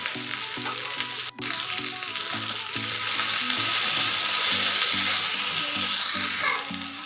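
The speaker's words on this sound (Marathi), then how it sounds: "भेंडी आपल्याला मीडियम गॅसवरती ना 3 ते 4 मिनिटं छान अशी वाफवून द्यायची" Okra cooking in a pan over medium gas gives a loud, steady, continuous sizzle with a brief dip early on, and no voices.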